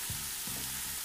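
Boiled potatoes get stirred into dill leaves frying in a pan, with a steady sizzle and a couple of soft stirring scrapes.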